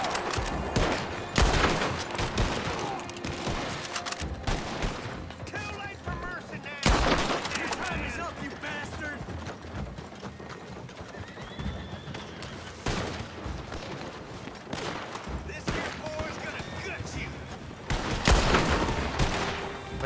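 Gunfire from a gun in the video game Red Dead Redemption 2, sharp loud shots in irregular bursts and single cracks spread across the clip, with game noise and horse sounds between them.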